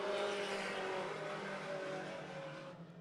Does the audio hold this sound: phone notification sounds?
no